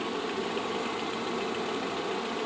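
A torpedo heater runs steadily, blowing hot air through an old wood-stove plenum into an excavator's engine bay, giving a constant, moderately quiet roar and hum with no speech.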